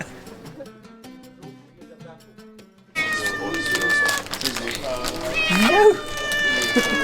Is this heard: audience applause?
no